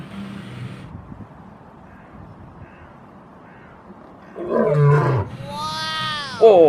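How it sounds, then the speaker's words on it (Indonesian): A toy lion gives a synthetic roar, followed by a rising electronic squawk, loud and close after a quiet stretch of handling noise. "Wah, ini ada hewan buas, singa."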